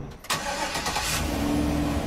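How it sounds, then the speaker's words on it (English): A utility truck that has been heavily modified with a full hybrid system starts up, then runs at a steady, close mid-pitched engine rumble with no voices. "This may sound like a regular truck, but underneath it's been heavily modified."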